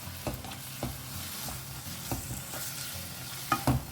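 Sausages being stirred in a pan with red chilli sauce, a spoon scraping and clicking against the metal over a steady sizzle, close up and with no talk.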